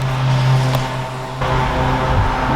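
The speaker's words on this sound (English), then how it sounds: "Sorry about the loud lawnmower." Loud lawnmower engine droning steadily nearby beside a small lake, a constant rough motor hum with slight shifts in pitch and no talking.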